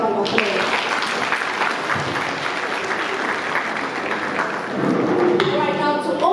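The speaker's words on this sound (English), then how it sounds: "I think they deserve a bigger round of applause." Sustained audience applause fills a women's agribusiness conference hall in Copperbelt, dense and steady throughout, swelling slightly louder near the end.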